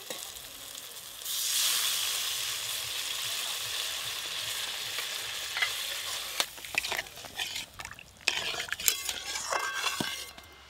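Water poured into a pan of fried spice paste for a Bengali fish curry bursts into a loud hiss of sizzling, which settles to a steady simmer broken by stirring and clinks of a utensil against the pan.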